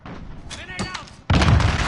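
A grenade blast in the Call of Duty beta shooter, a loud sudden burst near the end that follows quieter game sounds and a shouted voice.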